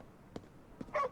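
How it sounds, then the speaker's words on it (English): A dog in Ghostwire Tokyo gives a few soft, quiet yips and a brief whine, spaced short sounds over a faint background. "There's a dog."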